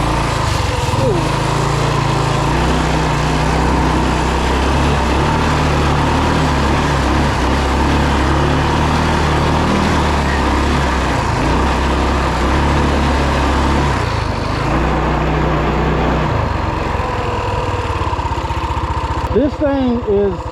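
A 2WD Rokon motorbike fitted with a 223cc Wildcat engine drones steadily and loud as it climbs an incline, the engine note holding for most of the run, then easing off near the end.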